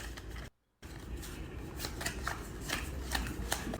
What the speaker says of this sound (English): You shuffle the cards.